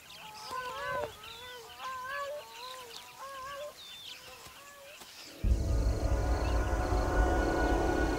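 Birds call in a repeated series of honking, trumpeting notes in Zambia, then a dense rushing roar of wind or movement takes over and masks them.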